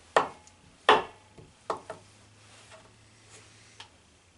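A knife chops through a whole stick of butter on a cutting board, three sharp distinct cuts early on followed by a couple of fainter taps, close and alone with no talking.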